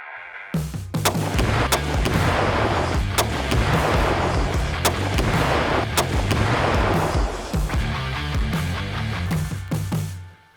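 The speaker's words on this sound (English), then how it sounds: "That was a little bit bigger bang than I thought it was gonna be, actually." A continuous, heavy barrage of loud blasts and sharp cracks runs for about ten seconds as an airless off-road tire is shot, with Tannerite involved, outdoors, then ends abruptly.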